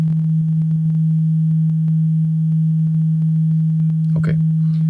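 A SOMA Laboratory synthesizer holds a steady low sine-wave tone, loud and continuous throughout, with a regular pattern of faint clicks over it and a brief chirping flutter near the end.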